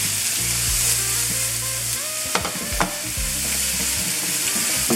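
Onions frying in a pan for sofrito, caramelizing with a steady sizzle and occasional stirring scrapes, close and continuous with no talk.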